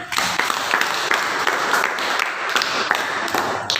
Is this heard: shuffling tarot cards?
no